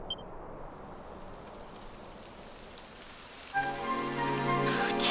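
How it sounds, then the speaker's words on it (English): Rain begins falling in the video game Dragon Quest 11 S, a steady hiss of raindrops that holds through the clip, with a brighter musical tone joining near the end. "It would have to go and start raining, wouldn't it?"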